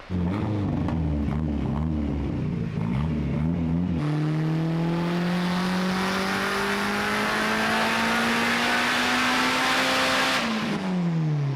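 A Nissan 300ZX on a dyno doing a power pull, its engine first idling and blipping with choppy pulses, then screaming loudly through an open screamer pipe in one long rising rev before cutting off near the end.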